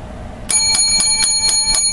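A bell rings out seven times in a steady rhythm, each strike bright and clear with a ringing tail, following a moment of quiet in a comedic bit about meticulousness.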